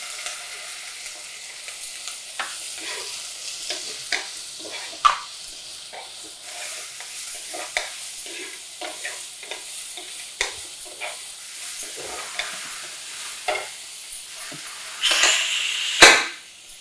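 Carrots being stirred and fried in a pan: irregular scraping spoon strokes and soft clatter over a steady sizzle, with a louder burst of hiss and clanking near the end.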